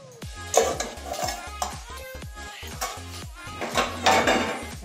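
A pot lid lifted, then potato, eggplant and chickpea greens stirred in a pan, making repeated close metallic scrapes and clinks of a spatula against the pan over a soft sizzle.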